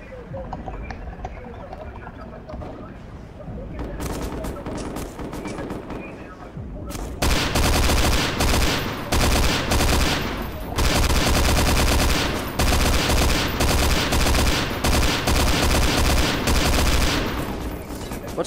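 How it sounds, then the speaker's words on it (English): Dense gunfire from the SMOD Outbreak video game: sporadic shots at first, then heavy sustained bursts of rapid fire and explosions that fill most of the stretch, with a person talking over part of it. "I don't know who the hell is shooting at me."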